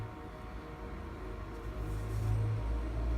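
A steady low electronic hum and airy whir from a Mac computer's fan, faint and continuous, growing slightly louder toward the end.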